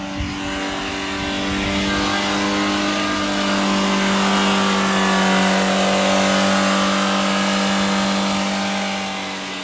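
A Peugeot 106 engine that runs a little rough, with one hose missing, hums loudly and steadily nearby. It swells slightly in the middle as the revs rise a touch, then settles again.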